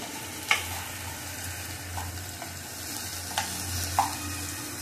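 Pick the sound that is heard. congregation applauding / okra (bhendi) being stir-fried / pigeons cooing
okra (bhendi) being stir-fried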